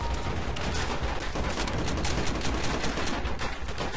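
Sustained suppressing gunfire in Call of Duty: World at War, a dense, steady barrage of overlapping shots that stays loud and continuous for the full stretch with no pauses.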